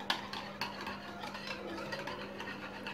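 Powdered sugar being stirred into a mixture for a sweet egg French toast snack, a spoon or whisk scraping and clinking against a bowl in steady repeated strokes, close and fairly quiet with no talking.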